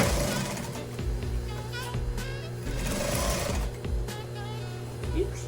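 A sewing machine stitches along the top of a skirt facing and its seam allowance, running as a close, steady, rapid mechanical whirr with brief pauses and changes in speed throughout.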